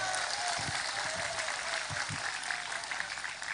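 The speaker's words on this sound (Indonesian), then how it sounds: "Tepuk tangan untuk Indonesia." A large audience at an Indonesian religious lecture gives sustained, dense applause for Indonesia, a steady loud wash of many hands clapping with little talk over it.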